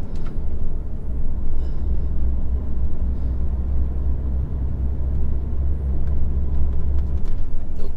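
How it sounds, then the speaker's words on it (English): A truck passes from the opposite direction on a narrow zigzagging road, heard as a steady loud low rumble of engine and road noise from inside a moving vehicle. "Truck coming the other way."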